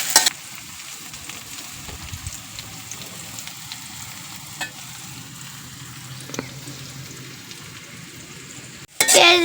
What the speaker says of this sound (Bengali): এখন পেঁয়াজগুলা নাড়িয়ে ভালো করে ভাজা নিবে